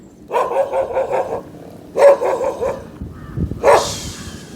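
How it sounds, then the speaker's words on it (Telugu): A dog barks in three separate bouts outdoors in a village, loud and close, with a few quick barks in each burst and a short yelp at the end. "వచ్చింది మామ కుక్క."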